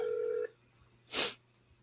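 A brief burst of telephone dialing tones ends abruptly, followed by near silence and then a short, loud electronic noise burst.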